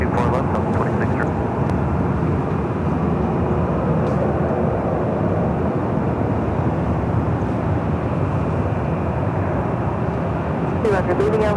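A Delta Airlines Boeing 737-800 takes off from runway 24 left at LAX, its engines giving a steady, loud, continuous roar for the whole stretch, with radio voices talking over it.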